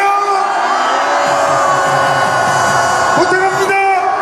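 A large crowd at a Gwanghwamun rally in Seoul shouts, whoops and cheers together, many voices blending into a loud, sustained roar with rising yells near the end.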